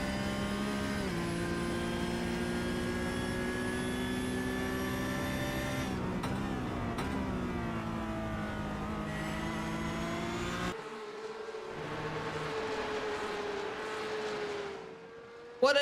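Porsche Carrera Cup race car lapping the Nurburgring GP circuit, heard onboard: a loud, sustained engine drone rising and falling through gear changes, with a sharp pitch drop near the end as the car lifts and brakes.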